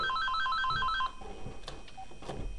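A phone rings from an incoming toll-free call, with a rapid electronic trilling pattern repeating for about a second before it cuts off, followed by faint room noise and small clicks.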